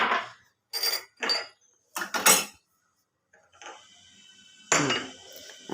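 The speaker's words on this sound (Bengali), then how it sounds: "এই সরি চায়ের কাপটা চেঞ্জ করে দিই" A teacup and biscuit plate handled indoors, several short clinks and knocks of crockery in separate bursts, followed by a longer scraping rattle, close and alone.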